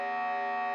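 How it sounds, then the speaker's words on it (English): A synthesized siren made in Ableton sounds as a short, steady electronic tone, loud and sustained, with no voices. "Or siren sound."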